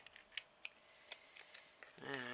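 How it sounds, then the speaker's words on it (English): Scissors snip through a section of paper during a Halloween eye book craft, a series of sharp, separate clicks spaced irregularly and close up, followed at the end by a short voice. "I might do it better with scissors actually."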